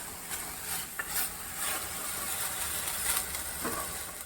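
A kitchen mixer grinds broccoli soup with almonds in a steady, continuous whir, with brief rattling surges, and no voices.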